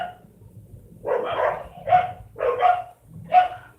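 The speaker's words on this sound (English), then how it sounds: "There goes my dogs again, y'all." Several dogs bark in four loud, close bursts at a steady pace, after a brief quieter moment, in a house during a snowy day.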